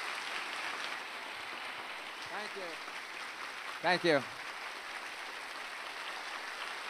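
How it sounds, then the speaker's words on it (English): A livestreamed event audience claps steadily for a former astronaut, a continuous wash of applause with a voice briefly speaking over it. "Just a good round of applause for Mr."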